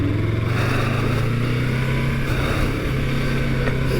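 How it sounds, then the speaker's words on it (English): A small motorcycle ridden around a tight track, its engine droning loudly and continuously with steady, slightly wavering pitch, close and unbroken for the whole stretch. "This bike is so small."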